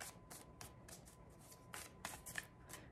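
Tarot cards are shuffled close by in soft, rapid riffling bursts with brief pauses between them, faint and steady.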